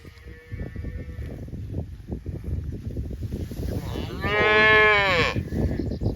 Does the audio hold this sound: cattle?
yes